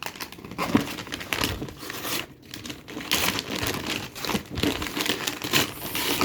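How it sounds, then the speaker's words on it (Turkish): Gift wrapping on a holiday present being torn open, loud close crinkling and ripping of paper in quick bursts with a brief pause in the middle. "Evet paketi yırtmadan açamayız."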